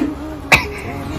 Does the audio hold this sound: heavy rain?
no